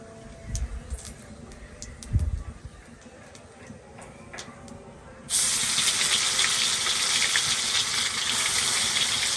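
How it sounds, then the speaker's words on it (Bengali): A ground paste of flattened rice, ginger and green chilli hits hot oil and erupts into a loud, steady sizzle partway through, after quieter kitchen clatter and voices talking nearby. "তেলের মধ্যে দিয়ে দেবো চিড়ে আদা কাঁচা লঙ্কা একসাথে বাটা"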